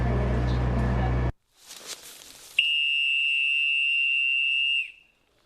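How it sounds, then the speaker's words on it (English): A sharp whistle blown once during a search for a missing person, a single loud steady tone held for about two seconds after a loud rumbling passage and a few faint sounds. "A lot of whistle blowing"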